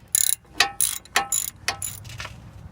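A hand ratchet loosens a brake caliper bracket bolt on a Trailblazer or GMC Envoy 5.3L, giving several quick bursts of close clicking in uneven strokes that fade toward the end.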